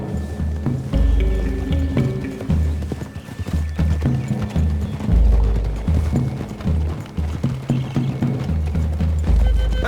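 Horses in Red Dead Redemption 2 walk through woods with steady, rhythmic clip-clopping hooves up close, and a whinny breaks in now and then over a low rumbling backdrop.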